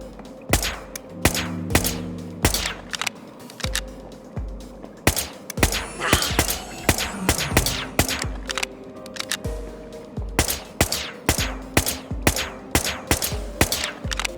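Gunfire in the adventure game Whispers of a Machine: a string of sharp, loud shots and impacts, some in quick bursts and others spaced apart, set over a low musical drone and ringing tones, with no talking.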